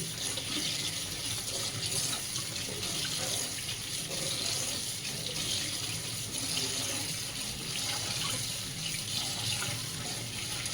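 Flattened rice (avalakki) being washed in water in a kitchen, a continuous splashing and running-water rush with sloshing swirls lasting throughout, no speech.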